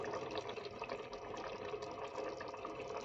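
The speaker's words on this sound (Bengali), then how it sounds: "জল দিচ্ছি।" Water being poured into a pan of chicken and potato curry with spices, a steady splashing, gurgling flow heard close and unbroken, with no talking.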